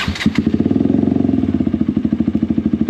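A KTM Duke motorcycle engine idling close by, a loud, steady pulsing thump with an even rapid rhythm throughout, no talking over it.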